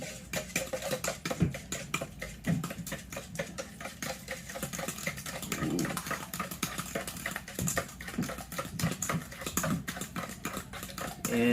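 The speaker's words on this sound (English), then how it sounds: "And you're just gonna whisk it all up together." Eggs and batter being whisked in a bowl for unicorn bars: a steady stream of quick, close clicking and tapping strokes against the bowl, continuous and fairly even throughout.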